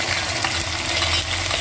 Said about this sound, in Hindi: जो प्याज को हमें भून लेना है, जो प्याज है हमारी गोल्डन हो जाए।